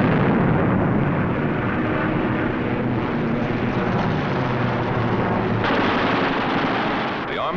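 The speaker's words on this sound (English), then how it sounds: "With the touch of the finger on the stick, a camera and 8 machine guns are put into action." The eight .50 caliber wing machine guns of a P-51 Mustang fighter fire in a sustained, dense rattling burst, harsh and continuous, with the drone of the aircraft's engine mixed in.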